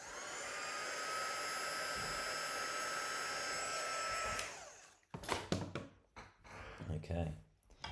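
A heat gun blows a steady, loud whooshing stream while shrinking heat shrink tubing over soldered signal wires for a robot arm controller, then cuts off, followed by clattering handling noises and brief talk.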